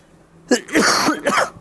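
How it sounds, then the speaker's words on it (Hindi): A few harsh coughs from a person recovering from COVID, loud and close, in a quick burst of about three hacks with brief gaps between them. "कोविड होने के बाद खांसी बहुत मुश्किल से जाती है।"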